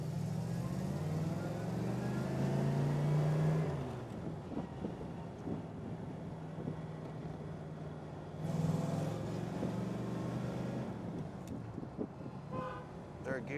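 A 1961 Corvette pulls away in first gear, its low engine rumble swelling and easing under wind noise, with someone talking over it.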